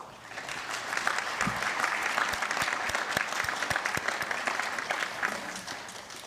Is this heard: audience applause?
yes